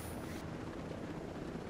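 A helicopter in the military shooter Tom Clancy's Ghost Recon Breakpoint gives off a steady, dense rotor and engine roar. It is loud and continuous throughout and has no talk over it.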